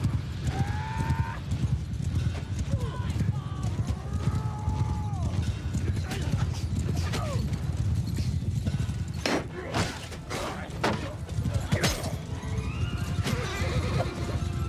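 Horses in Warsails, a Calradia-set battle game, galloping with steady clip-clop hoofbeats and repeated neighs and whinnies, loud thuds and clashes breaking in near the end amid battlefield noise.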